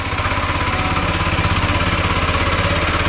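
A tractor engine runs in a field, loud and close, with a steady rhythmic chugging throb that holds for the whole stretch and no voices over it.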